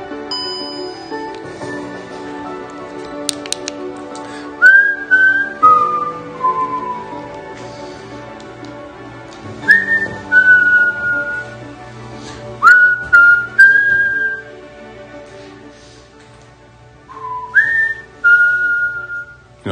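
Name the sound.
person whistling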